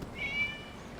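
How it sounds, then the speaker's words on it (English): A single short, faint cat meow rises briefly over quiet ambient background in the game Genshin Impact, heard alone without speech. "It was just a cat."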